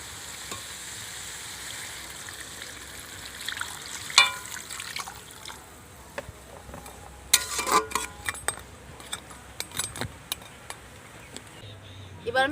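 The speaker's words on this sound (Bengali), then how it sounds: "এবার আমি জল দিয়ে দিচ্ছি" Water poured into a spicy crab curry in a pan makes a brief splashing rush, with soft stirring scrapes and utensil clinks close by before and after.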